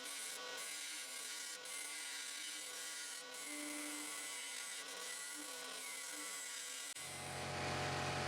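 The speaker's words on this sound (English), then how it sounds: "I continue deepening using this round carbide cutter scraper" A round carbide cutter scraper deepens the inside of a maple box on a lathe, a continuous close scraping and rubbing hiss over the spinning wood that shifts to a duller hum near the end.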